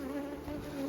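Honeybees hum steadily at an open, strong hive during a nectar flow, a brief, soft, continuous buzz with no voices.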